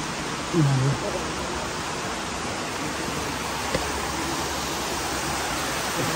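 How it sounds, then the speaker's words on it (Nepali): Constant hiss of water dripping from above fills a cave near Kuala Lumpur, Malaysia, steady and close, with a brief voice early on and a single faint tap. "त्यसरी माथिबाट यो पानीहरू झराउँछन्"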